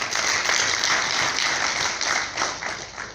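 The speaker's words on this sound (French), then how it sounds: "que je vous demande d'applaudir" Sustained applause from an audience at a book launch for a novel, many hands clapping in a dense, steady wash at fairly close range, with no voices on top.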